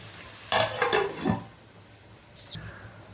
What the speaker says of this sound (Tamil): நடுவில் மட்டும் நம்ம கொஞ்சம் கிண்டி ஊற்றிக்கோங்க அப்பப்போ. அப்போ தான் நல்லா வதங்கும் உங்களுக்கு. நல்லா கிண்டி விட்டுக்கோங்க.